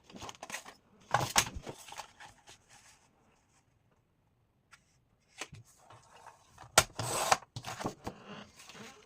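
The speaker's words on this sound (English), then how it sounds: "I'm going to cut it just a bit shorter" Cardboard flap being cut for a box, short bursts of scraping and rubbing with handling noise, separated by a quiet pause, close by.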